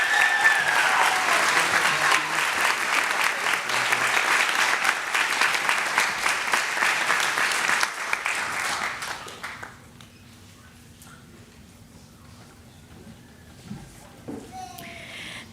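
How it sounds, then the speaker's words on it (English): An audience at a high school graduation ceremony claps in sustained, dense applause for about eight seconds, then it fades out to a quiet hall with faint murmurs and a few stray claps. "Please give him a round of applause."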